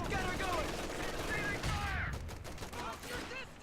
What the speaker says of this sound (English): And that's going to be the end of their machine gun.